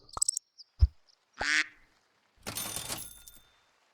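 Short cartoonish duck quacks from Super Auto Pets, with a few brief clicks and blips followed by a burst of game sound effects, all close and crisp against silence.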